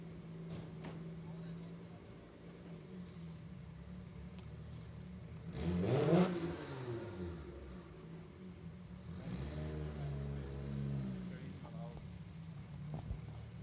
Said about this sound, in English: Turbocharged RB engine, 6-cylinder.